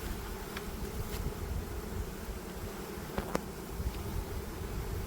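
A steady, dense hum of many honey bees buzzing close by, continuous throughout, with a few faint sharper insect passes over the drone.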